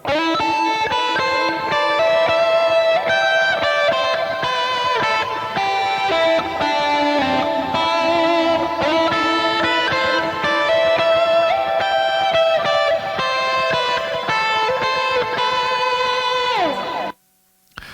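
Sustained layered guitar chords with a washy reverb tail from the guitar effects chain, playing steadily and loud before cutting off abruptly near the end.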